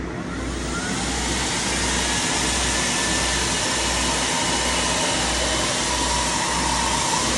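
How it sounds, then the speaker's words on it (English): A Vortex vacuum table runs steadily, sucking leatherette material flat against its surface with a loud, continuous whooshing blower roar and a low hum that stays even throughout. "So the Vortex table is actually sucking the material down."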